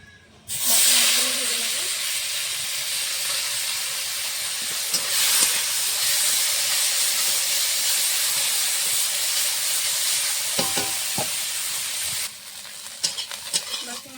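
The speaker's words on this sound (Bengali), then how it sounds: "বাকি মাছগুলো এভাবে ভেজে নেবো" Fish fry in hot oil in a pan with a loud, steady, close sizzle and hiss that runs almost the whole time. A few light utensil clicks come near the end as the sizzle drops away, and no one speaks.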